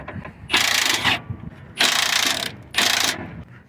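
A ratchet works a 17mm nut and bolt during rack and pinion replacement on a Toyota RAV4, producing three loud, close bursts of rapid clicking separated by brief pauses.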